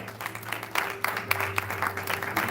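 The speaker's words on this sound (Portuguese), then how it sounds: "Você pode aplaudir ao Senhor?" A church congregation at a Sunday family service applauds, a steady, dense wash of clapping that swells a little midway and carries on with a low tonal hum beneath it.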